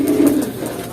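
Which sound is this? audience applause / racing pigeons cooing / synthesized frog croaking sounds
racing pigeons cooing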